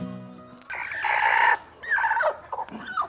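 A brooding Siruvidai hen sitting on eggs on an egg farm clucks and squawks close by in a few drawn-out, strained calls with short gaps between them.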